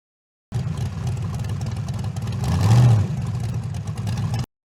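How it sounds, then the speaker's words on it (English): An off-road vehicle engine runs steadily at a low rumble, then revs up and swells louder for about a second before settling back, close and continuous with no voices. "Off-road vehicle."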